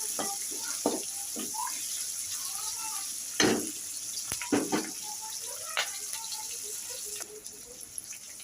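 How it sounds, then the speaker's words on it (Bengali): Water goes into a hot frying pan of soya chunks, capsicum and onion for gravy, with a constant sizzling hiss and a few louder splashing, bubbling bursts that fade into calmer sizzling. "এরপর এর মধ্যে জল দিয়ে দেবো।"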